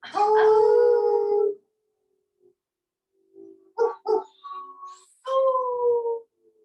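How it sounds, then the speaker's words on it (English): A yoga class releases a held breath as a group howl: a long sustained howl, then after a pause a few shorter rising howls and a final held one, loud and near, with silence between. "We're going to hold that breath. And then we're going to howl it out."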